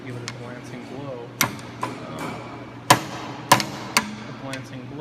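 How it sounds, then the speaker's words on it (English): A small hammer gives glancing blows to a tungsten electrode to snap it for TIG welding, producing several sharp metallic taps spaced irregularly over a few seconds, close and distinct above a low steady hum. "you can even use a little hammer and you give it a glancing blow"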